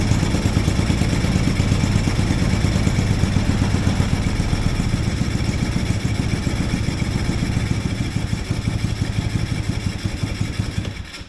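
A mini Jeep's carbureted engine idles too low, a steady, loud, rough rumble with a fast low pulse that continues unbroken and sags slightly near the end.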